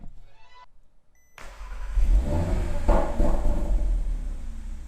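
After a quiet pause, a car engine running a PE Stage 1 ECU tune cranks and fires up at close range, settling into a loud, throaty run punctuated by a couple of sharp throttle blips.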